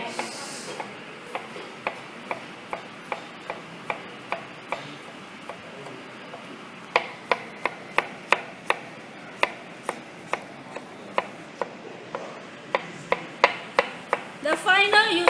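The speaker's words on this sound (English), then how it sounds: "I'm going to slice fine." A kitchen knife slicing food finely on a cutting board: a steady series of sharp, close knife strikes in even rhythm, speeding up and growing louder toward the end.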